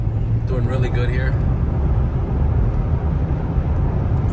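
A Chevy TrailBlazer with a 4.2 I6 engine drives after a spark plug change, its steady low engine and road rumble continuous throughout, with someone briefly speaking over it near the start.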